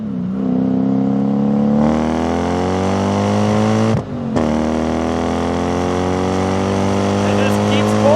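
A 3UZ V8 in an IS300 wagon with a manual gearbox revs up hard through a gear, drops briefly at a shift, then pulls again with a loud, rising engine note close to the listener.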